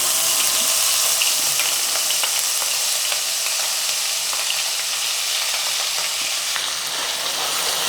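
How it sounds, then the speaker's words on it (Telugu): Cumin and ground masala spluttering in hot oil in a pan, a loud, dense, continuous crackling sizzle heard up close and unbroken throughout, with no talking. "అంతా మంచిగా ఫ్రై చేసుకోవాలి."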